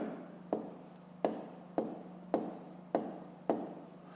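Handwriting during a fifth-grade maths lesson, working a word problem: six sharp pen or marker strokes land at a steady rhythm, each followed by a short scratchy tail, close and fairly quiet over a low steady hum, with no talking.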